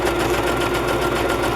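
A sewing machine runs a rough outline stitch around a figure on a fabric journal cover, producing a steady, close, continuous mechanical whir with no break.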